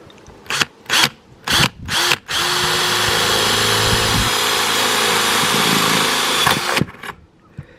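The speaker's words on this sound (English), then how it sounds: "So now time to drill some holes." A power drill revs in four short bursts, then runs steadily for several seconds while boring holes through a van's roof vent fan cover bracket area, close and loud, before winding down.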